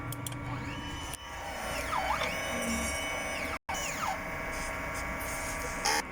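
A DTF printer runs a print head cleaning cycle with a steady mechanical whir and rising and falling motor sweeps, interrupted by a brief drop to silence before the hum resumes.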